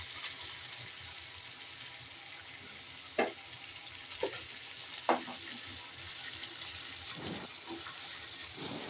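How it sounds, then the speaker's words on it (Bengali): Onions fry in a pan with a little water added, giving a soft, even sizzle with a few sharp clinks of a spatula against the pan, quiet and close, with no speech. "এরপর পেঁয়াজ হালকা ভাজা হলে এর সাথে একটু পানি মিক্স করে দেব, যেন পেঁয়াজ পুড়ে না যায়"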